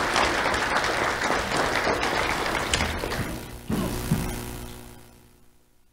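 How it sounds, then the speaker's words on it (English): Audience applause for a student winner at a monthly awards ceremony, a dense clapping crowd that holds steady for several seconds, then thins out with a few last claps and fades away. "Let's have a round of applause for Jesus Soto."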